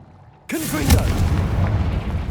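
A Confringo blasting spell explodes in Hogwarts Legacy, landing as one sudden loud boom that fades into a rumbling, crackling tail with scattered debris.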